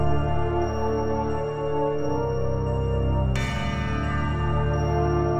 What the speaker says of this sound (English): I'm tempted to somehow just sample the original Sound Blaster bell